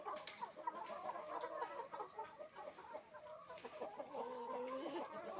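Chickens cluck continuously in the early morning as they are let out of a household coop, several birds together, quiet and at a moderate distance.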